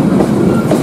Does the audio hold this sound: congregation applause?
no